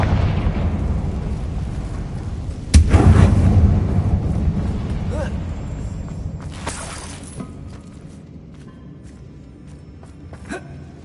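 Confringo blasting spell going off in Hogwarts Legacy, a sharp loud burst followed by a rumbling crackle that fades over several seconds, with smaller pops and magical whooshes scattered afterward.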